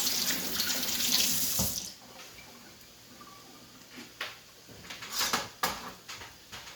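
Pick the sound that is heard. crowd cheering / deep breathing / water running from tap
water running from tap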